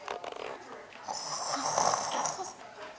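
A young boy imitates his father's snoring with his voice, producing a drawn-out rasping snore after a few short breathy sounds, close and fairly loud.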